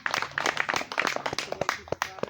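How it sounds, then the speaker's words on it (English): Audience at a Green Bus Comedy club show clapping in a loose, scattered rhythm, moderately loud with irregular individual claps and a few voices mixed in. "Clap it up, clap it up."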